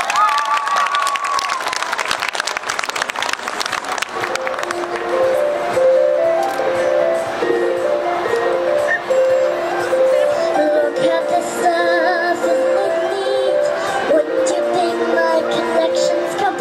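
Audience at a family festival claps and cheers loudly for a young singer from The Voice Kids, with dense steady applause and a few shouts, then music notes rising underneath.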